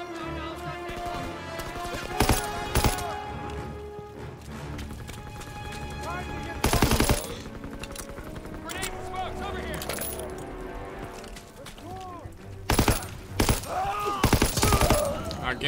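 Gunfire crackles in the World War II shooter Call of Duty: WWII, with loud bursts and rapid volleys standing out over a constant battle din and shouted voices.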